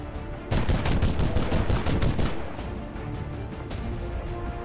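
Dense automatic gunfire from the XCOM 2 War of the Chosen video game rattles in a sustained rapid burst of shots for about two seconds, followed by a few softer scattered reports over lingering rumble.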